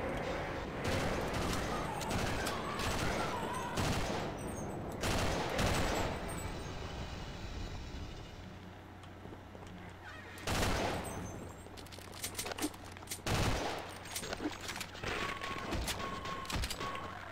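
Rapid bursts of SMG fire in Sven Co-op, a Half-Life co-op game, crackling in dense volleys with pauses between, while players chat in the background.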